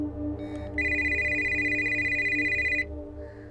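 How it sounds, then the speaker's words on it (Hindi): An electronic telephone ringtone trills steadily for about two seconds over a low background hum, then stops. "कब से फोन कर रही हूँ, फोन क्यों नहीं उठाया? पूरी 10 बेल्स चली गई थी।"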